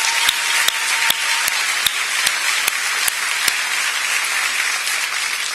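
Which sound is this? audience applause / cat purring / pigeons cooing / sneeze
audience applause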